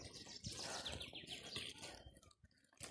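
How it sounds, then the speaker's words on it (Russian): A bird sings with repeated high chirping phrases in a damp forest as rain eases off, fairly close and clear over soft patter and rustling. "Ну вот птица поет."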